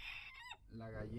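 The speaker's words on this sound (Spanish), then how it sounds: "aquí tengo el gallito colorado" A red rooster crows and clucks close by, a short burst with a falling call giving way to a rising crow, with farmyard noise beneath.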